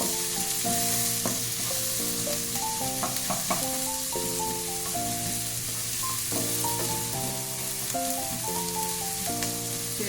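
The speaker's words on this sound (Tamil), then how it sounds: "இதெல்லாம் சேர்த்து நல்லா வதக்கி விட்டுக்கலாம்" Vegetables sautéing in a pan over a full flame for egg fried rice give a steady, close sizzle that runs without a break, under a melodic music track.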